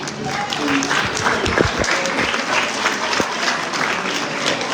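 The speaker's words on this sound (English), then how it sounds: "Now give yourselves applause and thank you for your participation" Audience applause at a community meeting on picking an independent evaluator for a police federal consent decree, a steady wash of many hands clapping, fairly loud and continuous with a few sharper claps standing out.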